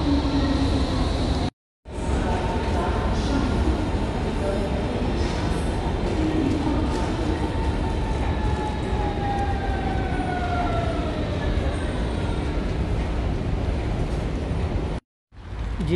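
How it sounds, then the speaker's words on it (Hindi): Riding a Berlin Ringbahn train: a continuous rolling rumble with faint squealing wheel tones that rise and fall, broken by two brief dropouts. "अभी मुझे ट्रेन चेंज करनी है टेंपल ऑफ के लिए"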